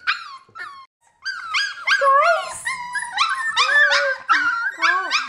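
Three- to four-week-old puppies whimper and howl in a close, busy chorus of rising and falling high-pitched cries that overlap continuously after a brief pause near the start.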